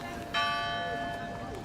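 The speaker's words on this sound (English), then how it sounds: "when the clock chimed for the opening at the county fair" A clock chime at a county fair opening sounds one clear bell strike that rings on and slowly fades, with faint background noise beneath it.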